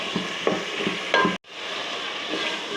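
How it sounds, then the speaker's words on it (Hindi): Spices fry and are stirred in a pan for an aloo chicken curry, giving a steady close sizzle broken by scraping spoon strokes and one brief cutout. "अच्छी तरह तकरीबन 5 मिनट मसालों को भूनूंगी मैं, ताकि अच्छी तरह मसाले मिक्स हो जाए"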